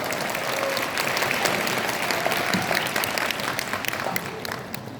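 An audience at a Korean corporate presentation breaks into applause, a dense continuous patter of clapping that holds strong and eases slightly near the end.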